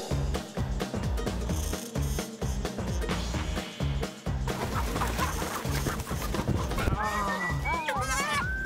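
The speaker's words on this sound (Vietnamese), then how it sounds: "Đã bắt được con gà rồi." Farm chickens cluck and squawk as one is chased into a net and caught, sharp agitated calls rising near the end amid busy background noise and people talking throughout.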